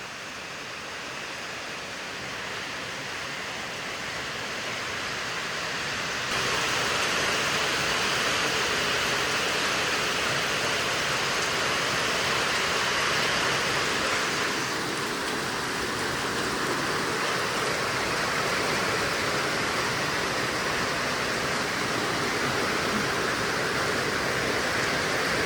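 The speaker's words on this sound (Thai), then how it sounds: "ดีใจขนาดเลยพี่น้องฝนตกแล้ว" Steady, heavy downpour in a rural Thai village, a thick continuous wash of rain close at hand that rises slightly after a few seconds and then holds, with no voices.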